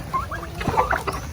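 Male turkey on a poultry farm making a few short gobbling, clucking calls, close by and moderately loud over faint background noise.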